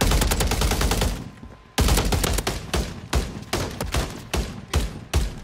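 Rapid bursts of video game gunfire in a shooter match, loud and close, with a brief pause early on, then several sharp volleys in quick succession.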